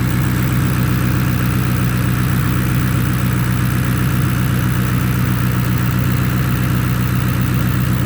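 A Ford Mustang GT idles with a deep, continuous exhaust rumble, a loud and steady low throb that holds unchanged throughout with no voices over it.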